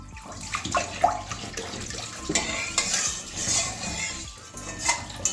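Hot water is poured into a pot of mung dal cooking with peas and tomato, splashing and gurgling, with metal pot and utensil clinks scattered through the pour.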